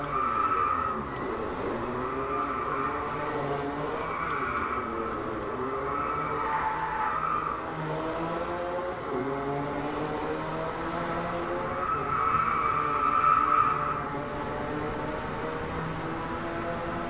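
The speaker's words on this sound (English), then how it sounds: "And look at the way this car accelerates." A hypercar in the Driveclub racing game, such as a LaFerrari, McLaren P1 or Jaguar CX75, revs hard through rising gear sweeps with repeated tyre squeals and skids, loud and continuous throughout without any talking.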